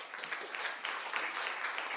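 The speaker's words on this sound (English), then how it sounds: "Okay, another round of applause for Tabitha, please." Audience at an International Astronomical Union General Assembly 2024 session on astronomy education breaking into steady applause, many hands clapping evenly for the full two seconds without talk.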